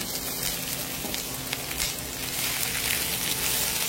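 Four onions frying in a pan for cashew prawn masala, a steady close sizzle with a dense crackling hiss running evenly throughout, no voices.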